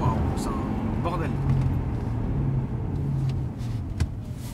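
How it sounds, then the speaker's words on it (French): A Peugeot 206 turbo car runs with a loud, close, steady rumble and some rising whine, while people talk over it. "T'entends les turbos?"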